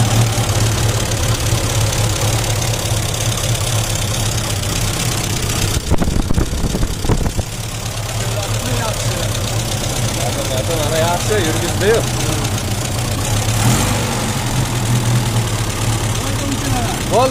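A GAZ 24 pickup engine idles with a steady low rumble and faint knocking throughout, briefly interrupted by a louder clattering burst midway, with people talking nearby.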